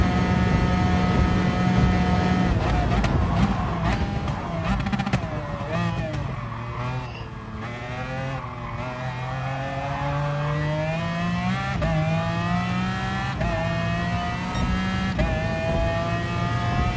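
A Gran Turismo Sport race car engine revs and shifts through gears, its pitch rising and falling steadily as the car accelerates along the track, loud and close throughout.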